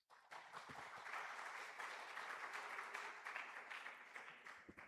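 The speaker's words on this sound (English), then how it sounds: "please give the presenter applause" Audience applause for a conference presenter at the ICGERE 2026 conference, steady clapping from a room of people that starts abruptly and holds at an even level for several seconds, filling the room without any talk over it.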